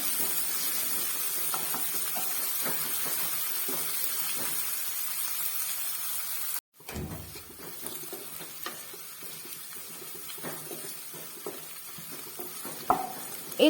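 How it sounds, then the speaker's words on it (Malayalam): Ginger and garlic sautéing in a pan with a steady sizzle and intermittent stirring scrapes, continuous hiss broken by a brief gap midway, then resuming with spoon clicks and taps, no talking. "ഇഞ്ചി വെളുത്തുള്ളി പച്ചമണം മാറുന്നവരെ നന്നായിട്ടൊന്ന് വഴറ്റിയെടുക്കാം"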